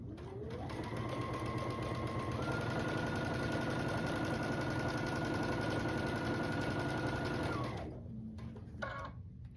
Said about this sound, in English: So I'm going to sew these strips together, this sashing on it, and then I'm going to keep sewing the strips together.